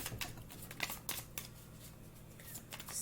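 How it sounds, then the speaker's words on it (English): A tarot card deck being shuffled outdoors in calm conditions, giving a soft, continuous riffling and slapping of cards with scattered crisp clicks, faint and close. "I don't like looking while I shuffle because I can see the cards."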